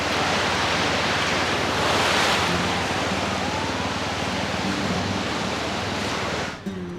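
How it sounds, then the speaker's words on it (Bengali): Big sea waves roll onto the beach at Puri, a dense, steady roar of surf that swells slightly midway and holds loud and constant before cutting off abruptly at the end. "মারাত্মক ঢেউ কিন্তু পুরীতে।"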